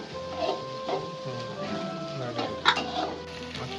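Chopped green chili, garlic and curry leaves frying in hot oil for a village-style mushroom roast, with a soft steady sizzle, light stirring clinks and scrapes of a utensil against the pan, and a faint voice in the background.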